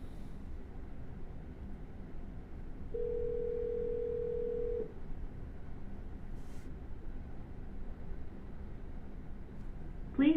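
A phone line during a cold call for wholesale real estate deals, with a single steady electronic tone held for about two seconds over a quiet background hiss.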